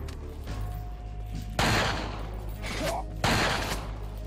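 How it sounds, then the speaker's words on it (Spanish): Gunfire from the video game Resident Evil 4, with two heavy, sharp blasts about one and a half seconds apart over a steady game backdrop, each one loud and close. "Tres malditos tiros en ese marrano"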